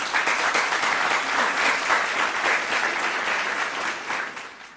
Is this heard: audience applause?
yes